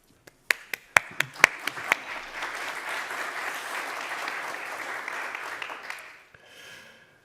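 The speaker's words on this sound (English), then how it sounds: "I always say when I get clapped at the beginning is that the real test is if I get clapped at the end" An audience at an economic conference welcomes a speaker with applause: a few sharp early claps swell into sustained, dense clapping that fades out after several seconds.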